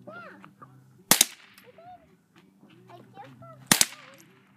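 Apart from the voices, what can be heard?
gunshots fired at an old Dell computer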